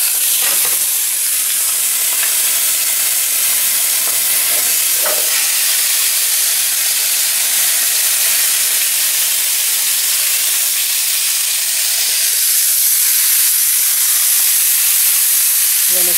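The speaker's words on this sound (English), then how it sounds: "Then we're just gonna sear these." Paprika-seasoned turkey wings searing in a hot pan, a loud, steady hiss and sizzle with a few faint utensil taps, close and without talk.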